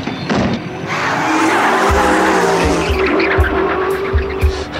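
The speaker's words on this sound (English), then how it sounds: "Driving the hell out of that car." A car drives hard in a film scene, its tires squealing loudly in long skids over a roaring engine, with repeated low thumps, close and intense, no talking.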